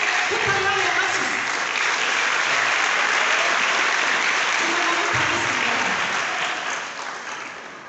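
An audience in a church testimony gathering claps steadily as a dense, continuous wash of applause, loud and sustained before slowly fading at the end.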